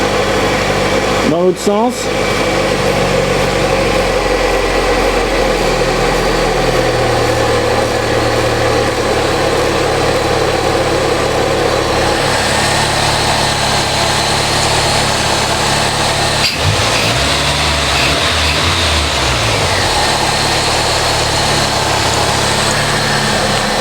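A Ford Mustang engine runs at idle close by, its revs rising and falling in a couple of sweeps under a steady hum, while a person talks briefly near the start.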